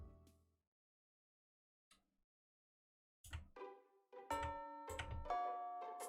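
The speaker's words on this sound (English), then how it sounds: "While the bell is ringing to send us to home" A school bell in Fate/Stay Night chimes after a near-silent pause, several clear ringing tones that start abruptly and overlap into a sustained, resonant sequence.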